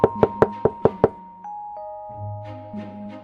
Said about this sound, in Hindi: एक साधु आया और ढोलू के घर का दरवाजा खटखटाया